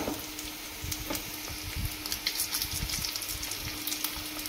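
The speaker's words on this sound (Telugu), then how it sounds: "ఈ ముక్కలు ఫ్రై అవ్వడానికి ఒక 10-15 మినిట్స్ పడుతుంది." Fish pieces fry in oil in a pan, a continuous close sizzle with crackling bursts and occasional spits, steady throughout with no voices.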